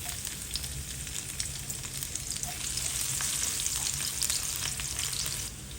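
Garlic sizzles and crackles steadily in hot cooking oil for pansit gisado, a close, continuous frying hiss with light stirring scrapes and pops, no voices.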